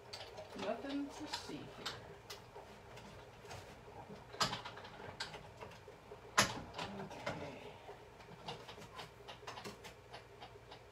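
Paper being cut into a leaf shape for a handmade card by a cutting machine, steady mechanical clicking and whirring with a few sharper ticks, low and close, with a voice speaking briefly.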